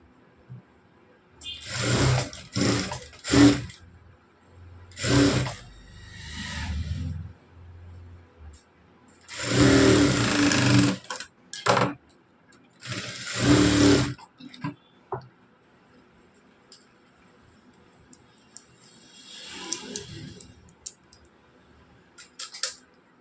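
A sewing machine stitches a normal blouse in several short, close bursts of whirring, with quieter handling sounds and pauses between runs.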